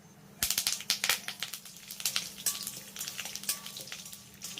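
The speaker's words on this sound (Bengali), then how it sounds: "সমস্ত ফোড়নগুলোকে আমি খুব ভালো করে ভাজা ভাজা করে নিয়েছি" Mustard seeds, dal, dried chillies and curry leaves fry in hot oil, crackling and popping in rapid irregular bursts over a soft sizzle, close and without talk.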